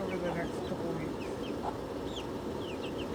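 In a backyard, a rooster gives soft clucks and short chirping calls over steady outdoor ambience, with other birds faintly chirping in the background.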